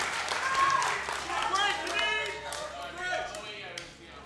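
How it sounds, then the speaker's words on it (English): A live audience at a New York movie-trivia show gives a round of applause, mixed with scattered cheers and loud talk from a nearby voice, rising and falling over several seconds. "Round of applause."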